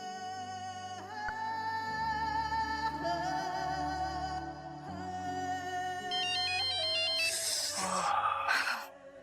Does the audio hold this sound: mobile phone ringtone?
yes